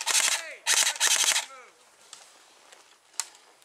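Airsoft guns fire rapid, close bursts during an outdoor airsoft game, with two loud volleys at the start followed by quieter scattered shots and faint voices.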